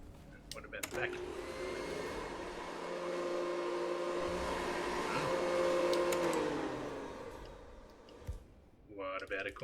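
Vacuum cleaner running in the Hitman: World of Assassination game, a steady whirring drone that swells and fades over several seconds, bracketed by brief clicks and game sounds.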